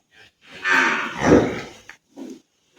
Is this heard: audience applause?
no